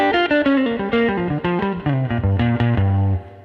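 Electric guitar played through an amp with reverb and a Carl Martin Headroom pedal: a run of plucked notes and chords with a clear ringing tail, close and steady, with no talking.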